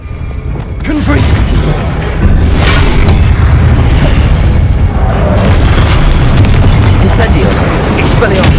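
A Confringo fire spell bursts in Hogwarts Legacy, opening as a loud, deep boom and rolling into a sustained, dense explosive rumble with crackling debris over several seconds, near and overpowering, with a voice faintly under it.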